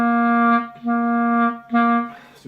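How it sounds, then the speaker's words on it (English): A clarinet plays three sustained notes at one pitch, each started with a firm 'ka' tongue attack and separated by short gaps; the tone is close, clear and alone. "And if I should try it on the clarinet, it will probably sound something like this."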